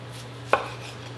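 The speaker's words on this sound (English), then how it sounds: "All right, I got a tomato here. I'm just gonna cut 2 slices." A single crisp knife cut through a juicy heirloom tomato on a board, one sharp close stroke over a low steady hum, with no talk.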